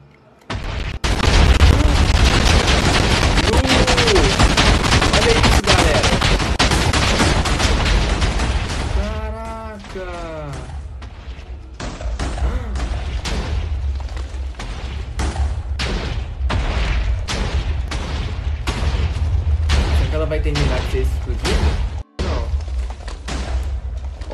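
Minecraft TNT blast, a loud booming explosion that fills the sound for seconds with roaring noise, followed by crumbling rumble and further bursts.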